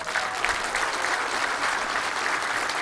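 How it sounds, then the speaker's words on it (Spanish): An audience applauds steadily and continuously at the inauguration of the La Concordia bridge in Chiapas, a dense, even wash of clapping from a large outdoor crowd. "Un aplauso para ellos"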